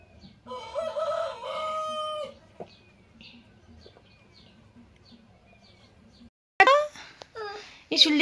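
A rooster crows loudly and close by. Quieter stretches of fowl sounds follow, then bursts of chickens clucking near the end.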